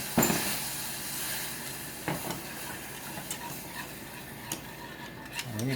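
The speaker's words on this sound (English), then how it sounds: "Put a little shot of milk in there. Stir it." Milk is stirred into homemade old-fashioned gravy in a hot pan, with a continuous sizzle and hiss, occasional spoon scrapes and clicks against the pan, and no talk.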